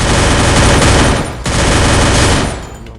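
Gunfire in the Free Fire video game, a loud, dense burst of rapid automatic shots that runs nearly unbroken, with one brief gap midway before the barrage resumes and then fades out.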